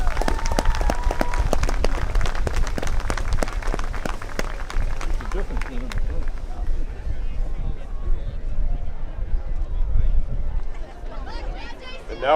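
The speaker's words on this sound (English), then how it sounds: "Let's have a round of applause for our Hall of Fame inductees." Crowd applause at an outdoor Thanksgiving high school football game between North Quincy and Quincy, saluting Hall of Fame inductees; dense clapping and cheering fills the first half, then thins into a lower, rumbling crowd murmur with scattered claps.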